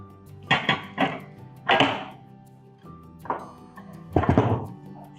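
A few hollow wooden thunks and scrapes as a board is shifted on a countertop, separated by short pauses, close by and fairly quiet.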